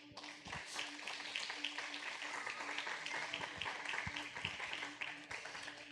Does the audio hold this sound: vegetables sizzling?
no